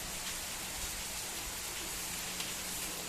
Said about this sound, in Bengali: ভালোই বৃষ্টিটা হলো, এখনো হচ্ছে।